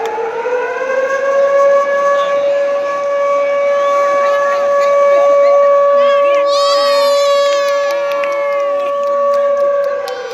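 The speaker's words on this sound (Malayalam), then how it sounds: "siren siren മുഴങ്ങട്ടെ" A loud, sustained siren wails steadily for the whole span at a boat race final, with excited voices and shouting rising over it toward the end.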